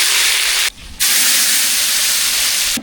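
Mustard seeds and curry leaves sizzle in hot oil as a tempering for a moong dal and snake gourd kootu. A loud, steady, close hiss drops out briefly near the start and then resumes. Nobody speaks.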